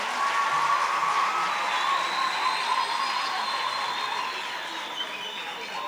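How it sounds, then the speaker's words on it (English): A crowd at a TVET college artisan showcase gives sustained applause, a dense, even roar of many hands that holds steady and fades slightly toward the end. "Let's give them a round of applause while they are preparing."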